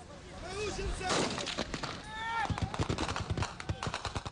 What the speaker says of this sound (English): He calls for one gunman to fire.